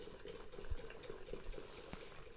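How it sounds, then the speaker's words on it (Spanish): Marzipan flan mixture stirred in a bowl with a utensil, a soft steady scraping and sloshing with a few light knocks, close and quiet, no voices. "Vamos a revolver un poco."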